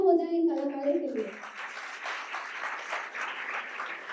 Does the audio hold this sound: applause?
yes